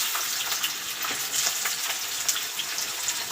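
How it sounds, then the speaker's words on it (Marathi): Chopped onion and crackling cumin and mustard seeds frying in hot oil, a steady close hiss with fine popping throughout, no voices. "जिरे मोहरी तडतडली की मग आपण यामध्ये हा असा थोडासा मोठा साईजचा मोठा चिरलेला कांदा घालून घेऊ"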